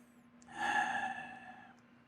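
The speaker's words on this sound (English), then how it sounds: "Take a deep breath." A single deep breath, a soft airy exhale lasting about a second, close and quiet against a faint steady hum.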